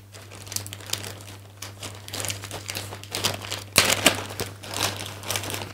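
A plastic bag is opened over rooted fuchsia cuttings, with continuous close crinkling and rustling that swells into louder crackles midway, under a steady low electrical hum.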